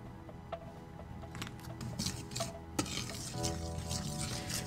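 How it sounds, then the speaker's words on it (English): Dry bath bomb mixture with baking soda being stirred in a bowl, with soft scraping and light clinks of the utensil against the container, quiet and close. "stir, stir, stir, break up all the chunks, make sure it's properly incorporated"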